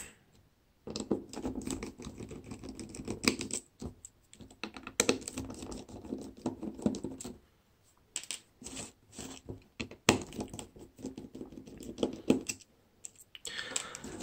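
A Torx T5H screwdriver backs out screws on a BlackBerry 9000 Bold phone whose warranty seal was never broken. Close, dry clicking and scraping runs almost continuously, with brief pauses and no voices.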